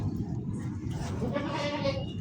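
A goat bleats nearby on a farm, a wavering call rising near the end over low rumbling background noise.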